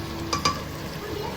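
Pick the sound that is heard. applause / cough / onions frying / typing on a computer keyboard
onions frying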